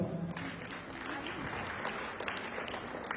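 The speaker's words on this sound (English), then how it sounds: "Clap for her." A group of listeners claps for a girl in a red cap, producing a busy, even patter of hands that carries at moderate loudness for a few seconds in a lively room.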